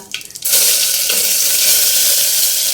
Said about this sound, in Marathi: मिरची लसूणची जी पेस्ट होती मिक्सरमधून काढून घेतलेली ते टाकणार आहोत आणि छान असं फ्राय करून घेणार आहोत